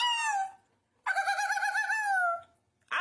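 A Cornish hen gives two drawn-out, wavering calls at close range, one short and one longer, with quiet gaps between them and a third call starting at the very end.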